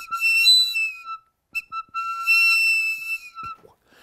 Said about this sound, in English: So two hunters would each have their own whistle,